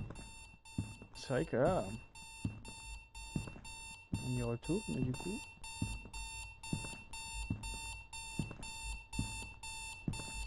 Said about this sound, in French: Bon, pour l'instant, on a que deux alarmes.